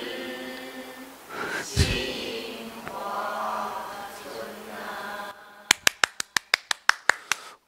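A professor lecturing on classical Chinese rhyme claps his hands about ten times in a quick, steady rhythm, sharp and close, after a stretch of singing voice.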